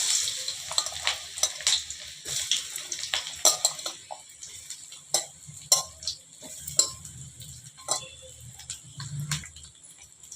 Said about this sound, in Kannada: ಚೆನ್ನಾಗಿ ಎಣ್ಣೆಯೊಳಗೆ ಫ್ರೈ ಮಾಡ್ಕೊಳ್ಳೋಣ.